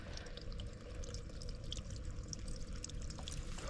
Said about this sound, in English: Heard some water.